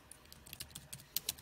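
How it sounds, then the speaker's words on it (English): Quiet, close typing on a foldable FKANT Bluetooth keyboard paired with an iPad, a quick irregular run of light plastic key clicks with a couple of sharper taps near the end. "typing again"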